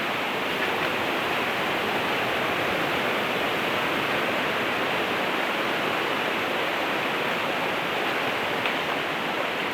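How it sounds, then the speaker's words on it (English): Torrential floodwater from a rain-swollen river rushes past a cabin, a loud, unbroken roar of churning water that fills the scene from start to finish with no voices. "torrent of water flowing past the cabin"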